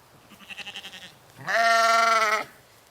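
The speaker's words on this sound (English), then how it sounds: "these are Brahman cattle" Brahman cattle calling nearby: a short, wavering low call, then a loud, drawn-out bellow lasting about a second.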